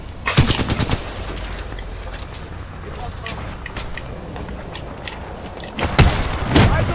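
Titanfall 2 gunfire rattles in sharp bursts of rapid shots, loud and close at the start and again near the end, with quieter game noise between and a player's voice talking over it.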